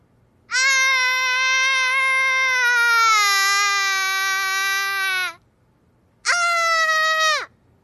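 A girl screams and cries loudly in two sustained high wails, first a long one of several seconds, then after a short pause a shorter second wail, with no talking.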